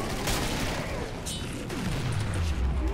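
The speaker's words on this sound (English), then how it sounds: "somebody threw grenades" Grenades blowing up in the co-op zombie shooter Killing Floor, a dense run of booming blasts and gunfire-like bursts, loud and continuous through the whole stretch.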